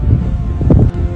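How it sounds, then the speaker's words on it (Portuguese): Strong wind blowing over a microphone outdoors on a hill climb during a bicycle ride, a loud, low rumbling buffet lasting the whole moment with a brief dip near the end. "Tá ventando bastante."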